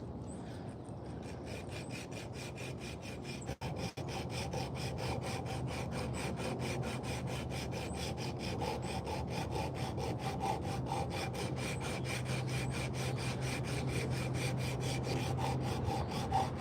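Steady, continuous rasping of a cut piece of sanding belt rubbed by hand back and forth across a wooden spoon, close and fairly quiet, with a brief knock early on.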